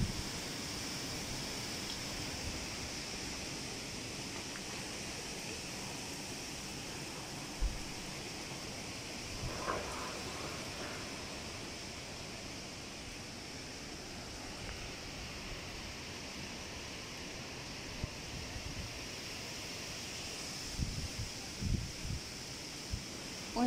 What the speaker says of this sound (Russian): Ураган, буря.